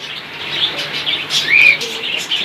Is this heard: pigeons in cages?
yes